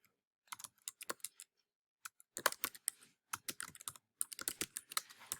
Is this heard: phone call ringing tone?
no